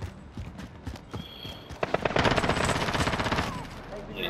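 Gunfire from the video game Call of Duty: Modern Warfare, a rapid burst of automatic shots rattling out close and loud after scattered single cracks, while voices talk over the shooting.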